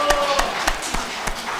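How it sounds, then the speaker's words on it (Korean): At a Korean church's Sunday service marking its 43rd anniversary, the congregation claps together in thanks to God. A short burst of even, rhythmic claps sounds at a brisk pace. "하나님께 감사의 박수를 한번 드립시다"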